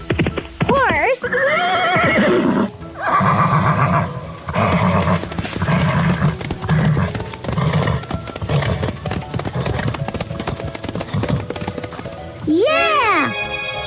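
A horse neighs and whinnies in several loud, wavering calls, with hoof clip-clop and a voice talking in between; a final bright whinny closes it out.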